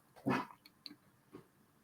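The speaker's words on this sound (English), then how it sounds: "My dog does this. It's like she very seldom barks." A dog gives one loud close bark, followed by a few fainter, shorter yelps or whimpers in an otherwise quiet room.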